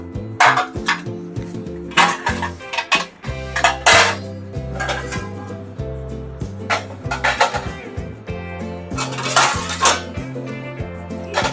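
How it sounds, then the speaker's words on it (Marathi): Clean steel and aluminium kitchen dishes are lifted out and set down one after another, giving loud, close, irregular clanks and ringing metallic clinks with no talking. "माझे जी क्लीन भांडी आहेत ना ती मी काढून घेणार आहे अगोदर"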